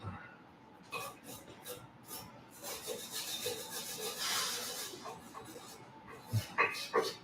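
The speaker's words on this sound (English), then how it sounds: "we're going to scrub those two landing areas where these guys go" A brush scrubs the landing areas of a Mercedes-Benz brake caliper bracket clean, giving a faint, continuous raspy rubbing in uneven strokes, with a few light metallic clinks near the end.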